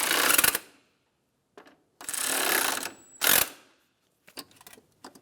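Bolts on a 2013-2017 Honda Accord AC condenser cooling fan assembly are snugged down with a ratchet in several close, clicking bursts separated by pauses, followed by a few short taps.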